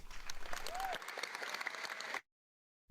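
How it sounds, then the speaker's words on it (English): A short round of clapping from several people patters quickly for about two seconds, then cuts off abruptly into silence. "Sounds of clapping."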